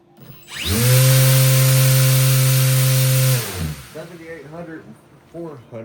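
A small RC motor spinning an 80% 9-inch 4-blade folding propeller on a thrust stand spools up into a loud steady hum for about three seconds, then winds down, followed by someone talking.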